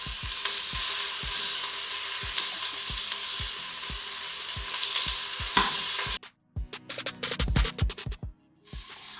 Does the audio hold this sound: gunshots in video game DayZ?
no